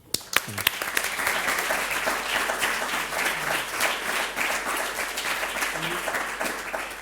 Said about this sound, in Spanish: que también merecen un aplauso